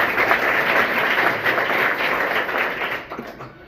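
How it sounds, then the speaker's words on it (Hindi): An audience at a school gathering claps for a child, a thick, lively wash of many hands that holds steady and then thins out near the end. "एक बार ताली बजा दीजिए"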